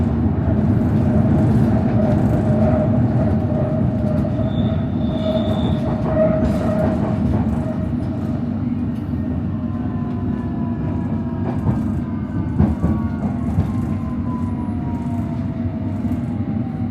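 London Underground Metropolitan line train running steadily toward Finchley Road, with a continuous rumble and rail noise plus a brief high wheel squeal midway. No one speaks.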